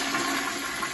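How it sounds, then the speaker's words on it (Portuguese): A toilet flushing in a bathroom showroom, fitted with a Sanipec unit, gives a steady, continuous rush of water that holds at a fairly even level for the whole second, with no voices. "Barulho da descarga."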